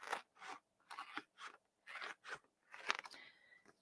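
A printed piece is cut out by hand with scissors, giving about eight crisp, rhythmic snipping bursts close up, each followed by a short pause, in a quiet room.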